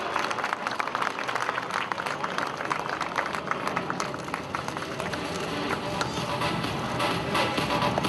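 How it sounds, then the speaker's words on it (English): Continuous audience applause fills the whole stretch, dense and steady, with a general crowd murmur underneath and no let-up. "Ladies and gentlemen, clap louder."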